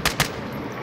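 Two sharp gunshots from the Call of Duty: Modern Warfare video game crack out close together near the start, followed by a low, steady background rumble of in-game ambience.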